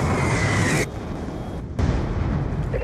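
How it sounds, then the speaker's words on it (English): A Hellstorm missile explodes during a Capture the Flag match in Call of Duty Black Ops II, a loud, roaring broadband blast that drops away after about a second, followed by a second heavy burst of rumble. "Friendly Hellstorm missile inbound."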